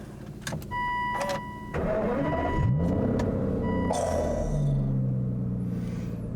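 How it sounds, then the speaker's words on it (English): An Aston Martin V12 engine driving on the road, a deep, steady engine drone heard from inside the car with a few short electronic beeps near the start. "There is just something about a V12 that you've just got to love. It ain't as loud as the GT8, but oh my God. Oh, it's so deep."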